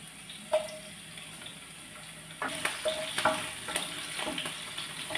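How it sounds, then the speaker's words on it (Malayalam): Ginger and green chillies fry in a pan for chilli chicken, giving a gentle sizzle that grows busier as they are stirred, with scattered crackles and scraping. "ഇനി ഇഞ്ചി അതും കൂടി ഇട്ട് കൊടുക്കുകയാണ് പച്ചമുളക്"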